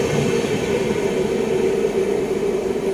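Amritsar–New Delhi Intercity Express running along the track, a steady loud rumble with a sustained droning hum throughout, heard from on board, no talking.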